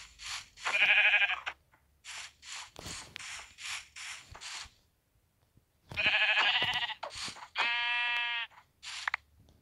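Minecraft sheep bleat repeatedly in a video game, a series of close, loud wavering baas in two clusters separated by a short pause, with no talking.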